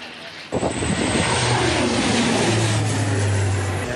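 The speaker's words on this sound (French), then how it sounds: "Dans les airs, les hélicoptères et les avions déversent des tonnes d'eau et de retardants." Firefighting helicopters and airplanes working over a wildfire, a loud aircraft engine roar that cuts in abruptly and holds steady and close with a droning propeller hum.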